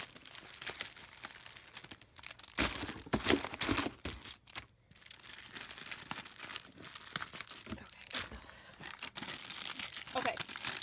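Sheets of scrapbooking paper rustle and crinkle as they are handled, with bursts of crumpling and soft tearing-like crackles. Someone talks over the paper noise.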